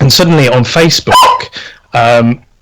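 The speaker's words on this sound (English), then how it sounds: "Sorry, that's my dog." A pet dog barks briefly and loudly nearby, breaking in amid a person's ongoing talk indoors.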